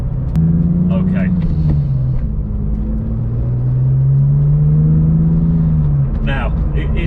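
Porsche 911 996 GT2 Clubsport rear-wheel-drive flat-six engine warming up, loud low rumble with steady revs rising and falling under throttle, heard from inside the car with someone talking over it.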